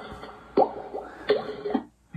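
An Icom IC-705 radio plays its power-on sound through an external speaker: a short series of three or four soft electronic tones, close and clear, with no talking.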